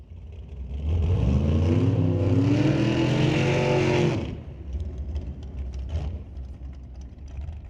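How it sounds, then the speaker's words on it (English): A white dragster in the tower lane at Mission Raceway Park doing a burnout to heat its tires, a loud roaring engine rev held for about three seconds and then cut off, followed by faint crowd and track noise. "getting the tires nice and hot in the white dragster in the tower lane"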